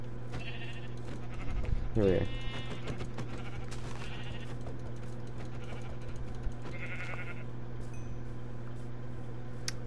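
A few short sheep bleats in a video game sound at intervals over a steady electronic hum, with a brief spoken remark early on.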